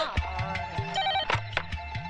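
A telephone rings repeatedly in a short, patterned ringtone, each burst recurring at a steady pace against a busy background of music-like tones, with no speech over it.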